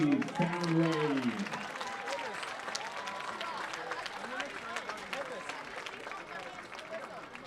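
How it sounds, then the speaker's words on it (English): Audience applause and cheering for a high school marching band at a football field, a broad crowd-wide wash of clapping that swells at the start and then holds steady, with voices in the crowd. "let's give it a round of applause for the Gulf Breeze Sound Wave."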